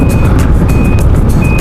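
A truck on a road sounds steady, high-pitched reversing beeps over loud, continuous engine and road rumble, close by, with no talking.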